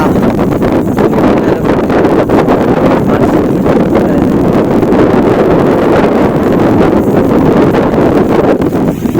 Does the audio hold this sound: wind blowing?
yes